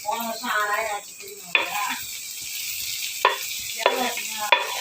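Onions fry in a pan with a steady sizzle while a spatula stirs and scrapes with a few sharp clanks against the metal, and talking is heard over the cooking.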